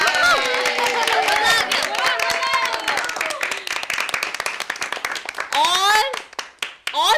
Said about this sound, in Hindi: कावेरी ग्रुप और कहानी के लिए जोरदार तालियां